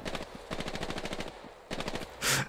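Rapid automatic bursts from a Thompson submachine gun in Hell Let Loose, a long rhythmic string of evenly spaced shots, a brief pause, then another short burst, with no talking.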